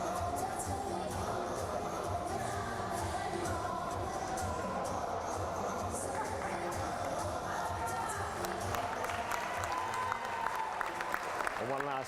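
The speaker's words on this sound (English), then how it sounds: "And one last round of applause for Dublin International" A crowd at a handball trophy ceremony in a sports dome applauds steadily for about twelve seconds, a dense sustained clapping that fills the hall without a break.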